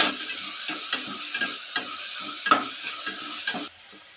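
Tomato pieces fry and are stirred in a pan for a chicken and amaranth-leaf biryani, giving a steady sizzle broken by regular scraping strokes of a spoon. The sizzle stays close and moderately loud, then drops off sharply near the end.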